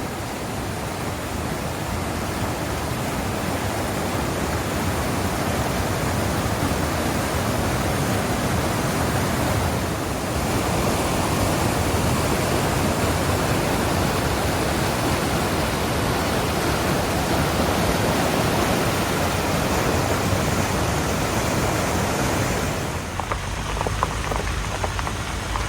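The waterfalls of the Bonnechere River roar in a steady, loud, unbroken rush of falling water that fills the whole clip, with no voices over it.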